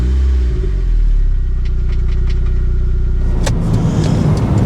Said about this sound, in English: I'm about to go for a first drive